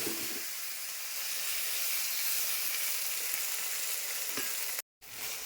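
Steady, loud sizzling of small Teesta river fish frying in hot oil in a covered pan, a constant crackling hiss with a brief cut near the end.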